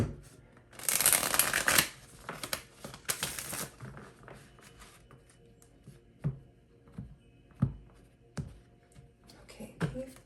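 Tarot cards shuffled in a few crisp riffling bursts near the start, followed by soft scattered taps and card handling, close and fairly quiet.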